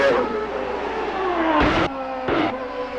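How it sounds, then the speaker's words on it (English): An Andretti race car engine droning at steady high revs, holding an even pitch, briefly masked twice by short bursts of rushing noise, heard from a distance like a trackside broadcast feed. "Boy, listen to the engine, though."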